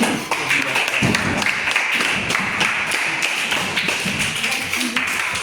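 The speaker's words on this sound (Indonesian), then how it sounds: "Tepuk tangan sekali lagi" A classroom group claps together in a steady burst of applause, dense and continuous throughout.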